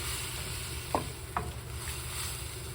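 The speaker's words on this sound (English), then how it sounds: "this curry kind of simmer for a while over the beef" Beef curry simmering gently in a pot over a very low flame, a steady soft bubbling hiss with two brief clinks from a spoon against the pot, no voices.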